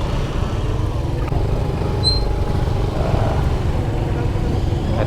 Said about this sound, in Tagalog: nagpapasok na yung mga motor